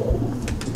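A close, soft cooing from a black-eyed pied pigeon of the Madrasi breed, a short low throaty burble with no voices over it.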